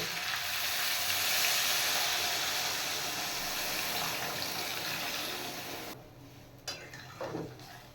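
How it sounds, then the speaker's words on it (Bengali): Rohu fish curry with green chillies sizzles loudly in a pan until water pours in, and the hiss drops abruptly to quieter bubbling with a few clinks of the pan. "এবার দিয়ে দেবো পরিমাণ মতো জল"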